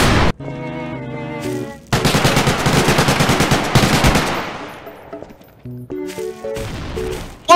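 Rapid machine gun fire from a weapon in the video game Garry's Mod, a dense, loud burst of repeated shots lasting a couple of seconds. Music plays before and after the burst, and a distorted noise closes it.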